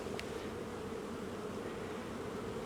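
Honey bees hum around an open beehive, a steady, faint, continuous buzz that drones evenly throughout with no voices.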